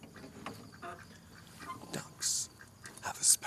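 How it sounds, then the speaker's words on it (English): Common ducks at night give soft, low calls and breathy sounds over a quiet nighttime ambience, with a couple of brief sharper noises near the end. "Here we can hear the common duck engaging in late-night breathing."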